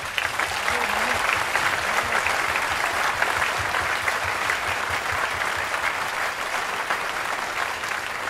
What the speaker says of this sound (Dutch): 1 groot applaus voor hen.